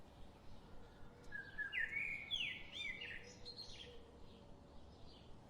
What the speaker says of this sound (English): But I hear something. It sounds like birds.